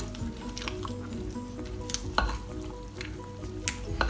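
A thick oatmeal, apple and banana cake batter being stirred as black raisins are folded in, giving a steady soft wet squishing with small scraping clicks, close and continuous.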